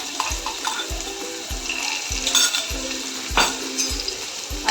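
Ginger, chili and garlic paste fries in about a spoonful of oil in a kadai, a close crackling sizzle punctuated by regular scraping strokes of a spoon against the pan.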